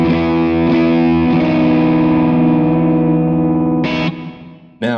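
A distorted electric guitar played through a Kemper amp profile chugs out thick, saturated chords with a few rhythmic restrikes, loud and close, ending in short muted stabs.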